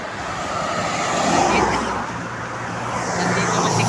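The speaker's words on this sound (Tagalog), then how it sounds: "maingay yung mga sasakyan" Vehicles rush past on a busy road nearby, a continuous roadway roar that swells and eases as cars go by, with no talking.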